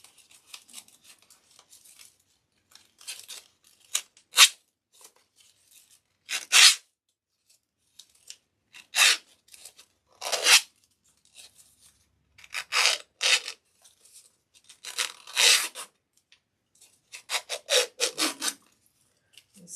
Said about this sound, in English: So I can take the scissors to this.